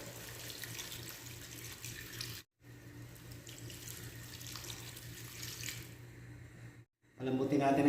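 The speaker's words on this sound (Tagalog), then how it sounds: "Lagyan natin yung ating water." Water pours from a tap or container into a pot of beef adobo, a steady splashing stream that runs for several seconds, breaks off briefly, then resumes with a sharper clatter near the end.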